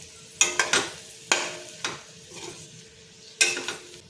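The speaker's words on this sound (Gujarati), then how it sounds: "હવે આપણે બધું જ મિક્સ કરી લઈશું। હળવે હાથેથી મિક્સ કરવાનું છે।" A spoon stirs Gujarati tindora and potato curry in a pan, landing a few distinct scraping clanks at uneven intervals, each with a short ringing tail over a quiet low sizzle; no one speaks.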